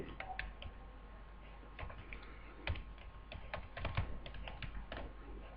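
A computer keyboard is typed on in sparse, irregular key clicks over a steady low hum, close but faint, with no talk.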